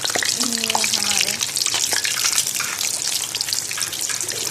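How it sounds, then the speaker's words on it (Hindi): Tamarind chutney cooking in a pan, a constant bubbling, hissing sizzle close up, with a voice speaking briefly over it near the start. "ये हमारी इमली की चटनी, ये भी साथ साथ पक रही है"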